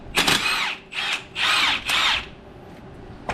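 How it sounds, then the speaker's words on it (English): Impact wrench with an 18mm socket removing the primary clutch bolt on a Polaris General XP1000, several short loud hammering bursts separated by pauses, close up and alone. "I'm going to use an 18mm socket with my impact and take that"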